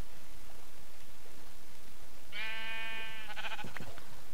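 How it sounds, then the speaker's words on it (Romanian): A single sheep bleat from Minecraft, a drawn-out wavering baa followed by a shorter second call, sounding clearly over a steady hiss of background noise with no talking. "Unde ești, băi, oaie?"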